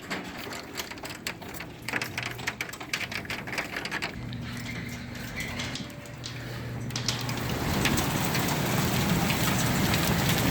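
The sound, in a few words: heavy hail falling early morning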